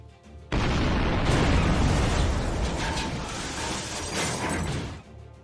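A detonated corpse in a Lancer RPG tabletop session erupts in a sudden loud explosion that starts abruptly, holds a dense roaring rumble for about four seconds, then cuts off.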